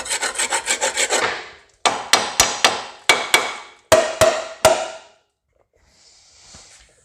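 Rapid string of hammer blows on a rusted steel Suburban truck frame, followed by slower, heavier ringing strikes in pairs, then quiet; close and loud, no voices.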